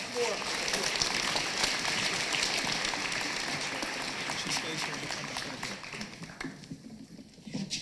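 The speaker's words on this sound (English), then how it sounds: "A round of applause for this." Audience applause at an Urban League of Cleveland celebration luncheon, a dense crackle of many hands clapping that holds steady, then thins and fades toward the end.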